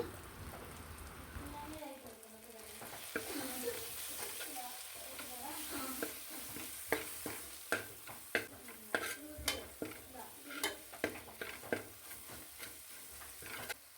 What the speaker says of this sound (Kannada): ಇವೆಲ್ಲ ಹಾಕ್ಕೊಂಡು ಚೆನ್ನಾಗಿ ಇದನ್ನು ಫ್ರೈ ಮಾಡ್ಕೋಬೇಕು